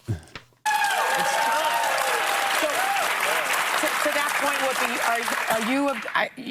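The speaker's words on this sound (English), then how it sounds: "She's clapping her hands together." A crowd applauds loudly and steadily at a church protest, the clapping breaking in abruptly after a brief voice and running continuously, with voices shouting and talking over it throughout.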